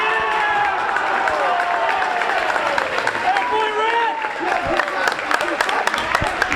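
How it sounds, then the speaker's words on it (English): Home crowd at a Peabody boys' varsity basketball game roars and cheers loudly and steadily, with shouts, whistles and scattered claps filling the gym throughout. "The Peabody crowd's going nuts over here to my left."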